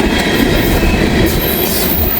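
A long Norfolk Southern freight train carrying railroad ties rolls past close by, a loud, steady rumble with a rushing wash of wheel noise and faint high squeal throughout.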